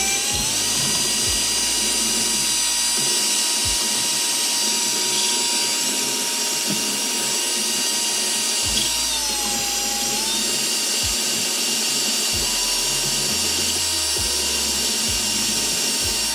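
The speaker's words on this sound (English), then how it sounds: "I have it connected to my drill here. Drill set to low RPM." Power drill set to about 4,000 RPM spinning an electric skateboard motor shaft during a Bioboard gear drive install, a sustained whining hum with steady tones and small pitch dips, mechanical rattles and clicks underneath.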